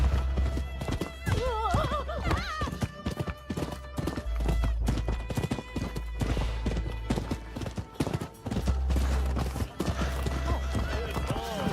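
A horse galloping in the video game Rise of the Ronin, rapid clip-clop hoofbeats running continuously over game music, with a whinny near the start.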